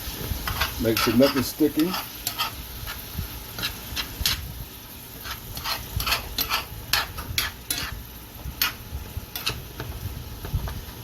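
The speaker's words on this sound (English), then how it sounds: "And I stir it up for a minute." Beef being stirred in a pot while cooking a brisket, with a scraping, clicking spoon and a light sizzle running underneath, a short remark spoken partway through.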